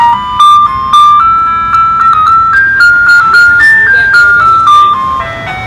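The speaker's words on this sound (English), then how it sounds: "I'll just play ice cream music." Ice cream truck jingle playing loud and close, a bright tinkling melody of stepped notes running steadily from start to finish at a car meet.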